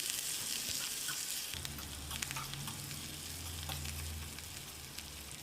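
Shallots, pepper and coriander leaves sizzle and crackle steadily as they are stir-fried in sesame oil, with some clinks and stirring noises in a quiet kitchen.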